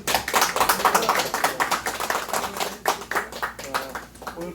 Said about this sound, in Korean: 박수로!